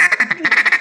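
A duck call is blown to imitate a mallard hen, producing a fast run of about eight loud, nasal quacks in steady rhythm, close and clear.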